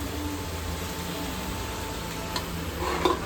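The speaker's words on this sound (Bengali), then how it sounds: "তড়কাটা ফ্রাই হবে এখানে।" Tadka dal frying in a pan, a continuous soft sizzle with low hum underneath and a couple of sharp clinks of stirring near the end.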